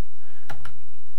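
Two sharp key clicks on a vintage Tandy Color Computer keyboard, spaced a fraction of a second apart over a steady low hum, close and fairly loud, with no voices.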